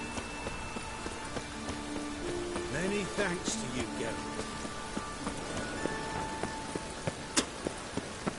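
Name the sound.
rain falling in The Witcher 3 video game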